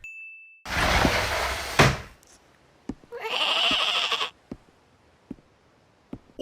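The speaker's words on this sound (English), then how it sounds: "the goat is adorable" A goat in the One Piece anime bleats twice in long, loud, wavering cries, separated by sharp metallic dings and clangs, with a short high tone at the very start.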